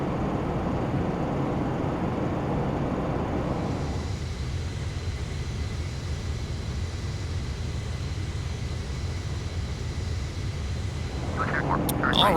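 Steady roar of a Delta Boeing 757 airliner climbing through clouds in Microsoft Flight Simulator X, a continuous broadband engine and wind drone that eases slightly partway through.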